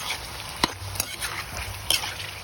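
A spoon stirs chicken seasoned with salt and pepper in a pan for adobong manok, with soft scraping strokes and a couple of sharper clinks over a steady sizzling background.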